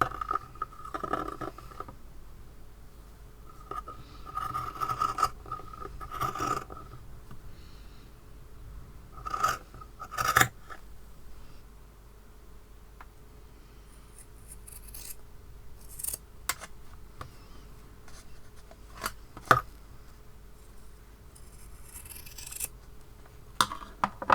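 Scissors snipping through sock fabric while cutting out craft pieces, with several clusters of close, crisp cuts and rasping blade strokes separated by pauses, no talking.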